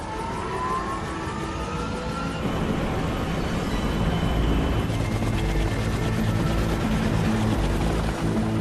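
A Kaman K-Max helicopter drones loudly and continuously overhead, its rotor chop and engine whine steady throughout with a slight rise midway.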